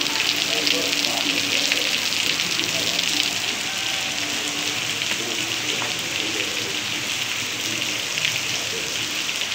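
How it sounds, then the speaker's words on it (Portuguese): Heavy night rain pours steadily over rooftops and ground in Princesa Isabel, Paraíba, a dense, unbroken hiss of water that holds at a constant loud level from start to finish. "Já tá chovendo há uma hora quase aqui."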